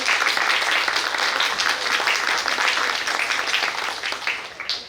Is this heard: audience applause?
yes